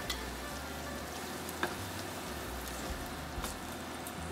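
Hot oil sizzles and crackles steadily in a pan while crab curry is being cooked, a dense continuous frying hiss with occasional louder pops, close and even throughout.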